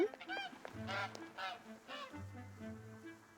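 Repeated video game goose honks, loud and close, several calls in quick succession with a few short clicks, no talking, from Dream and Lethe Record.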